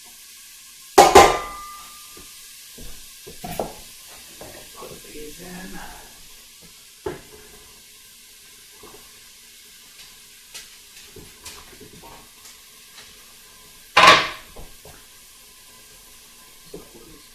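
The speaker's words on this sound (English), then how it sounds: "It's sizzling." Vegetables sizzle in butter and oil in a pan, a quiet, steady hiss beneath a few sharp clatters of utensils against cookware, while a person speaks briefly.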